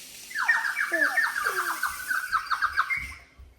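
A small bird whistle is blown, giving a bright, wavering, warbling high tone that runs nearly continuously for a few seconds, fairly close and alone without speech.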